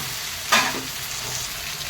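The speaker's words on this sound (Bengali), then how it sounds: "এই তিন আলুগুলো ভাজা ভাজা হয়ে গেছে একটু আদা বাটা দেবো আর টমেটোগুলো দিয়ে দেবো" Potatoes and tomatoes with ginger paste hit the hot pan in one sharp, bright sizzle burst that quickly fades to a low, steady hiss.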